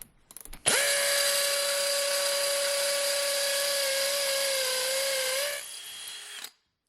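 A power drill whines steadily at a high, sustained pitch for several seconds while drilling an anchor hole for vinyl trim, dips slightly as it winds down, then stops.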